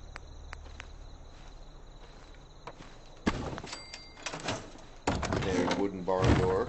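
A wooden barn door is set in place during Fallout 4 settlement building: a sudden solid knock cuts through a steady bed of crickets, then a few more wooden clunks follow, with a voice talking near the end.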